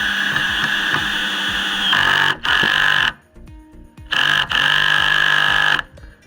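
A DeWalt hammer drill in second gear driving a screw into planter box wood, close and loud in bursts that stop and restart, with brief pauses and short whirs between runs.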